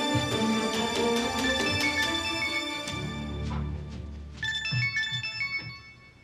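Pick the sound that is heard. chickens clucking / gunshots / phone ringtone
phone ringtone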